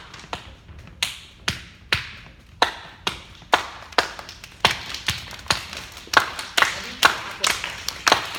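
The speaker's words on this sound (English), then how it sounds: "you can also try to do that just with the clapping like this" Hand claps beat out a steady rhythm, about sixteen sharp claps over eight seconds, evenly spaced and growing slightly louder, close to the listener with no talking over them.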